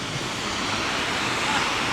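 Wind blows steadily during the first snowfall of the season in Toronto, a brief, even hiss of moderate loudness with nothing else standing out.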